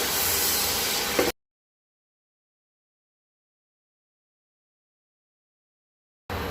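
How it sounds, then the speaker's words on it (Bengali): Hot water splashed into spices frying in a pan for a coconut prawn and potato curry gives a loud hiss for just over a second, then silence, with the hiss returning briefly at the very end. "মশলাটা যাতে পুড়ে না যায় তার জন্য দিয়ে দেব অল্প পরিমাণ একটু গরম জল"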